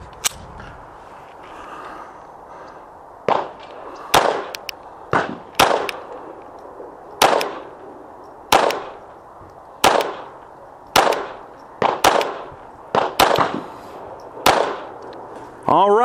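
CZ Kadet .22 caliber rifle firing about fourteen sharp, close shots at irregular intervals, each a crisp crack with a short decay over faint background noise.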